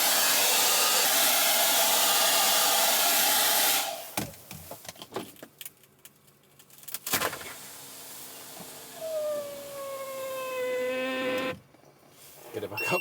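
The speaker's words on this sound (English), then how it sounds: "so hairdryer to the rescue" Hair dryer blowing hot air to thaw frozen van windows in Arctic winter cold, a steady loud whir for several seconds, then cutting off amid handling clatter and a window motor whining as it rises.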